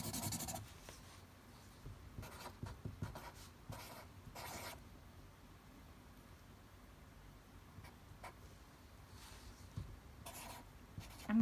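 A pen scratches and taps on paper while a precalculus math solution is written out. The sound is quiet and close, in irregular short strokes with pauses between them, and no one speaks.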